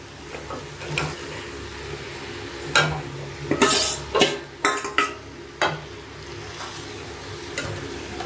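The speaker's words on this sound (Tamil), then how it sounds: "கருவேப்பிலை சேர்த்துட்டு இப்போ சிக்கன் வந்து நம்ம இதில் சேர்த்துக்கலாம்." Chicken and curry leaves going into a hot pan for chicken curry, a steady sizzle and frying hiss with several loud clattering stirs and scrapes of a spoon against the pan.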